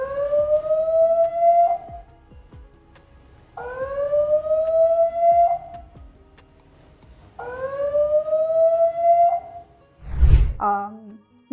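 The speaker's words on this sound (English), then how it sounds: "click the icon and it will sound an alarm like this" An Annke Crater 2 security camera's one-key alarm sounds a loud electronic siren: three rising wails, each a few seconds long with short gaps between them, ending in a sharp burst of noise.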